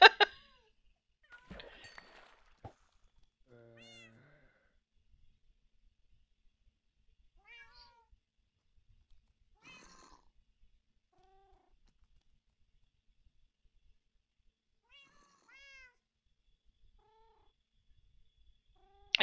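Cats meow in a video game village: a handful of short, faint mewing calls scattered across the stretch, separated by long quiet gaps.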